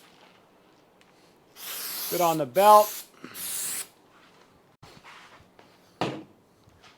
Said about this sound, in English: I'm gonna get the silicone spray, and I'm gonna spray along the shaft,